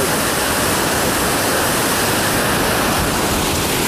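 Loud, steady roar of water rushing through the lock and dam on the Monongahela River at Morgantown, West Virginia, a dense unbroken wash of sound heard close and alone.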